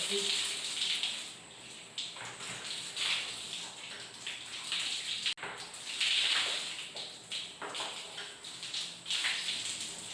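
Water runs steadily from a tap at home while a doll's hair is soaked before shampooing, a continuous close splashing gush that briefly breaks off midway and then resumes.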